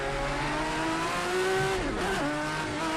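A Group C race car engine at the Algarve circuit in Project CARS 2 drones loudly and steadily at high revs, then dips sharply in pitch around a gear change before climbing again.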